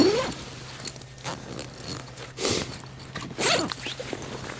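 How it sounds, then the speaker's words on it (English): Zipper on the canvas inner layer of a Kodiak Canvas swag tent being pulled in several quick rasping strokes, close and moderately loud, with faint handling noise between pulls. "That rolls up and it zips."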